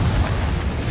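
A Confringo fire spell from the Hogwarts Legacy video game bursts in a loud, dense, booming explosion that lasts under a second.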